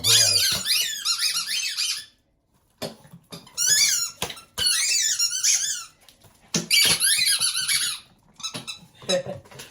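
Squeaky dog toys squeak in repeated bursts, loud and close, with pauses between the runs of squeaks and some handling noise.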